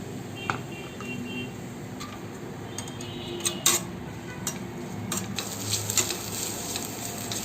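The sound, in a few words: sautéing onion in oil for Malvani chicken rassa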